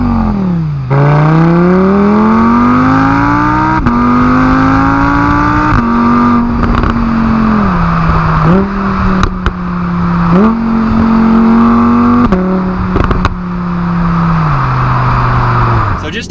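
A 2018 Audi R8 V10 RWS accelerates hard on a test drive, the V10 engine revving up repeatedly through quick gear shifts, loud and close from inside the car.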